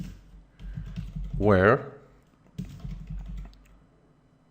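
Brief bursts of typing on a computer keyboard, light clicking clustered in short runs and mixed in with someone talking.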